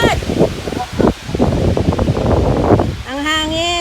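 Strong wind buffets the microphone at a very windy campsite, a steady rushing roar with gusty bursts, while people talk over it.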